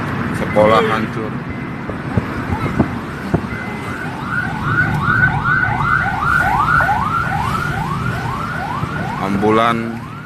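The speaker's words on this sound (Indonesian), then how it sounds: "Ambulan tanpa henti lalu lalang mengantar korban-korban" An ambulance siren in an earthquake-struck area on Lombok, wailing in a steady repeating rise-and-fall pattern as it passes close by, loud over street noise and a talking reporter.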